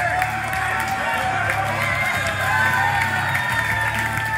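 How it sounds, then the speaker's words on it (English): Crowd at a fighting game tournament cheering and shouting in a large venue, a sustained noisy roar with commentators talking over it. "Yeah, you can hear the crowd. They're into it. They are going nuts."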